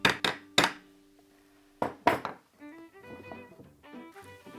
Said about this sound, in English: A few taps of the hammer,